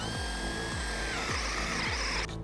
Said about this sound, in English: So I'm just drilling